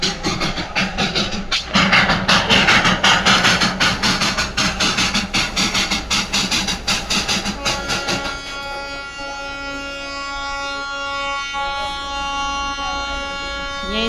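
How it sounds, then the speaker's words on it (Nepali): The Darjeeling toy train arrives at the Batasia Loop, first with loud, rhythmic chugging beats, then a long, sustained whistle or horn tone that rings out over a steady background rumble. "अब चाहिँ यहाँ ट्रेन आउँदैछ"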